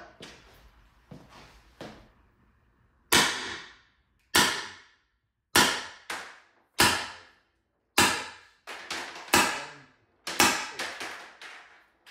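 An X.68 HPA airsoft gun fires about a dozen single shots, each a sharp crack with a short echoing tail, spaced irregularly about a second apart after a few quieter clicks, with no talking.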